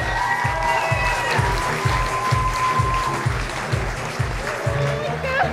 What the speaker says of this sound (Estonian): Teeme suure aplausi veel Silviale